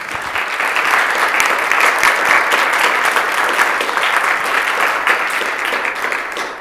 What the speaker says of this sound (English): I would like to invite everyone to give her a round of applause